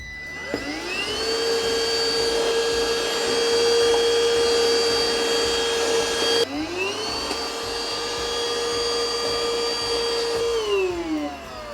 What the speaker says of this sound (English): make this a tall handheld or wireless vacuum